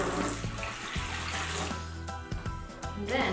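Sparkling water poured from a container into a basin, a steady splashing pour with fizzy texture that runs continuously, close by, with no talk.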